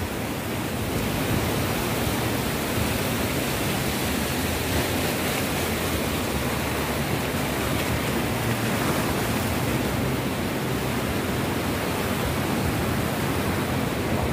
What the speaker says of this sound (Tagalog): Lalaking alon